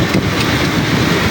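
Strong monsoon wind and heavy rain in a flood, a loud continuous roaring rush of gusting air buffeting the microphone, broadband and steady throughout with no talk.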